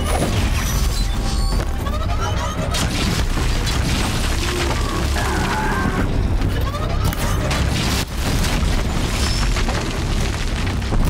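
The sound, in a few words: fire explosion in Horizon Zero Dawn video game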